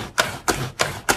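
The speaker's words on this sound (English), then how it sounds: "There's something about the clicking and this squeegee thing" Four evenly spaced, crisp ratcheting clicks come from a pet hair remover roller scrubbed firmly over a comforter, heard up close and alone.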